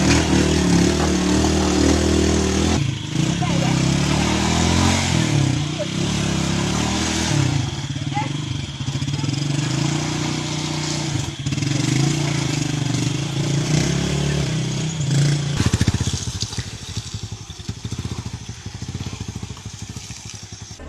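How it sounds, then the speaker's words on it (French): A motorcycle riding on a muddy road in Nkondjock, its engine droning loudly and revving up and down with some clatter, close by, and the engine drops away near the end. "il faut descendre de la voiture et prendre une moto"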